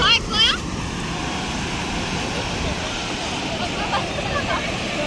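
Ocean waves at a busy surfing beach make a steady, broad roar of surf, with a faint, brief higher sound near the start and again near the end.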